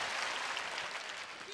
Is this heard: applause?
yes